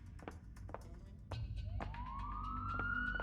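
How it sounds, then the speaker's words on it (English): In the Leisure Suit Larry 2 video game, a police siren wail rises steadily and grows louder, set against clicks and a low background hum. "Sound of a police siren"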